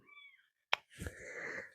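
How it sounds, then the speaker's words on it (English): A single short, bright meow from a small cat rings out after a moment of quiet, followed by soft rustling and shuffling close by. "Kitten."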